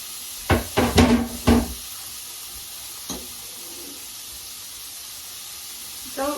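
Sausages drop into a hot pan and sizzle, with a few quick bursts of clattering and hissing up close, then quieter frying with an occasional knock.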